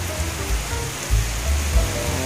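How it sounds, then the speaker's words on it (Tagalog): Heavy rain pours down in a continuous dense hiss, with low thumping gusts pulsing underneath, and nobody speaks. "Malakas talaga ang ulan"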